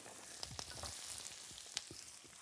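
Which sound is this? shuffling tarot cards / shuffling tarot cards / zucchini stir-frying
zucchini stir-frying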